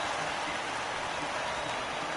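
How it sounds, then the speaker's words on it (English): Steady rain pours down in a baseball video game, heard as a dense, even hiss that runs unbroken through the whole short stretch with no talk over it. "we've mentioned the conditions aren't ideal with the rain coming down"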